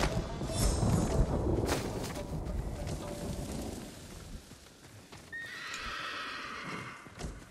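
In Ghost of Tsushima, a horse whinnies loudly over clip-clopping hooves, then a second shrill neigh rises as the hoofbeats continue.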